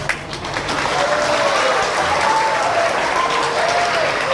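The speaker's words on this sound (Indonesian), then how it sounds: "Orang itu pun tepuk tangan ragu-ragu." Audience applause at an Islamic religious lecture, a steady broadband clapping texture that runs through nearly the whole stretch with faint voices murmuring beneath it.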